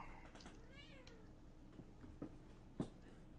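A pet cat lets out a single rising-and-falling meow close by, followed by a few faint bumps and a soft thud in an otherwise quiet room.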